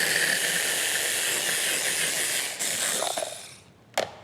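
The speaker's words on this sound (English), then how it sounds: "Olive flesh into the blender. Let's pop the lid on, and we'll just give that a bit of a blend until we get a nice paste." A blender whirring green olive flesh into a paste, a loud, steady hissing whir that runs for several seconds, then cuts out, leaving a few faint clicks at the end, with no voices.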